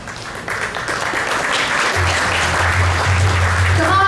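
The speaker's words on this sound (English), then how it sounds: "they have given so much for Radha Giridhari, so we can at least applaud them nicely." Audience applause at a temple anniversary celebration honoring members, a loud sustained crowd of clapping that swells after a moment and keeps going, with a low hum beneath and a few faint tones near the end.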